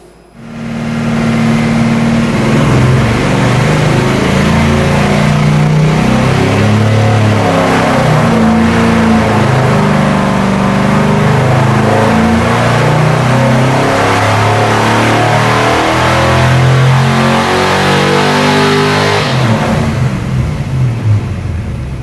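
A 383ci LT4/LT1 small-block Chevy revs on a dyno, rising and falling through repeated loud, close throttle sweeps that last about twenty seconds before it drops back to idle, with no talking.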